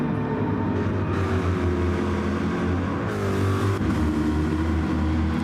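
A Corvette race car in a Group 4 race at Laguna Seca, its loud engine droning steadily with shifting pitch as it passes, close and continuous with no talk.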